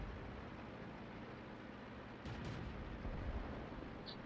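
Artillery shells bursting in the tank battle game World of Tanks, a low rumbling boom landing around the two-second mark over steady battle noise, followed by a second heavier thud a moment later.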